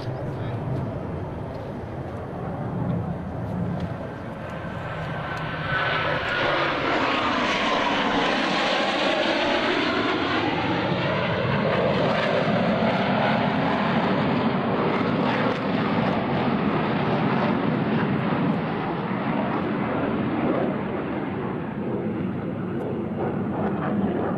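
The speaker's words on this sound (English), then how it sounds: "each pilot will perform an individual brake turn and exit the flight line in separate directions" US Navy Blue Angels jets break away low over an airshow crowd, a roaring jet engine rush swelling loud and sweeping past with a falling pitch, wind buffeting the microphone, and an announcer talking underneath.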